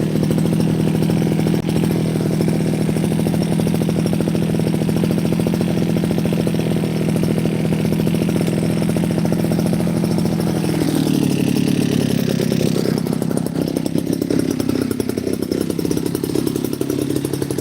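Small motorized pesticide sprayer engine running steadily in a rice paddy field, a loud, continuous buzzing drone close up that shifts slightly in pitch partway through, with no talking.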